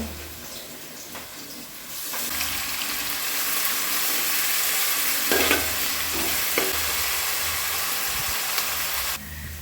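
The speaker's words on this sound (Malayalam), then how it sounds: "അപ്പോൾ ഞാൻ നമ്മുടെ സവോളയൊക്കെ ഒന്ന് ഫ്രൈ ചെയ്തെടുത്തിട്ടുണ്ട്" Chopped onions fry with a pinch of sugar in a pan for a home-cooked biriyani, giving a steady close sizzle that swells after the first two seconds, with occasional stirring scrapes. No one speaks.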